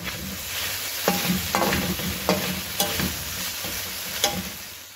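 Chicken for kung pao chicken noodles fries in an oiled pan with a continuous crackling sizzle, punctuated by about six sharp clacks of a spatula stirring and scraping, with no talking.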